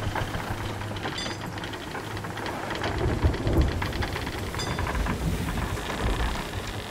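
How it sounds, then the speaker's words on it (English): Steady rain hisses over a pirate ship caught in a Sea of Thieves storm, with low thunder rumbling and swelling beneath it, louder around the middle, and no voices present. "Because we're in a storm."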